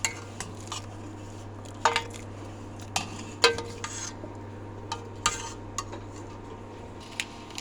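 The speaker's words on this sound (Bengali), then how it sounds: "হালকা হাতে সেমাইগুলো দুধের সাথে মিশিয়ে দিতে হবে" Handmade semai vermicelli being stirred into milk in a metal pot, with scattered clinks and scrapes of a utensil against the pot over a steady low hum, with no talking.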